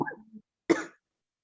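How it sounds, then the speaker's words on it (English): A single short, sharp cough following a brief low vocal sound, close and isolated in an otherwise quiet room. "Weren't you the one coughing"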